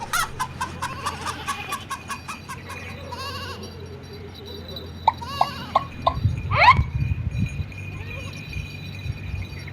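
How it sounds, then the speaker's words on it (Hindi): Cartoon rooster clucking and crowing in a run of sharp repeated calls, with bleating and squawking bursts near the middle over a busy background. "ये मुर्गा मेरे हाथ से निकल गया"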